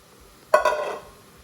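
Rice tipped into a hot pan of fried rice, a short burst of sizzle and scraping that swells loudly and fades within about half a second.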